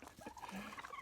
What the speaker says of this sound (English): how can you allow little turkeys to walk around your property?